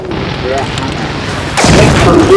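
A rocket explodes in Battlefield 4 amid ongoing game noise, a loud sharp blast late in the clip that follows faint background activity, with a voice speaking over it.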